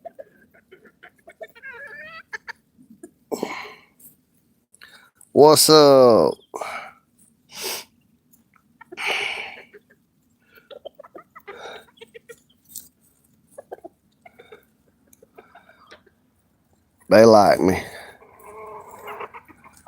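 Chickens cluck and squawk in short bursts, a couple of loud calls standing out, with someone talking briefly between them outdoors.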